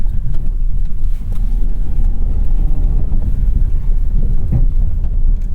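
A 2021 Honda Ridgeline's engine roars at full throttle in sand mode off-road, a dense low rumble held steady for several seconds under wind buffeting the microphone, loud and close.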